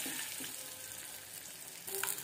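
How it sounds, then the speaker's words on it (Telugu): Tomato egg curry sizzles and fries quietly in a pan while being stirred, a soft steady crackle broken by faint scraping strokes. "మధ్య మధ్యలో ఇలా కలుపుతూ ఉండాలి"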